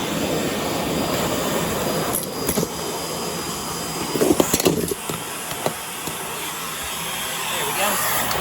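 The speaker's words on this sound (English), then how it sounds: "Now I will continue vacuuming." A Hoover Air Steerable upright vacuum cleaner runs continuously with a broad, rushing whoosh, nearby and steady, with a few brief bumps and rattles as it is pushed around.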